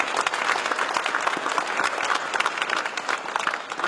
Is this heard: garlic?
no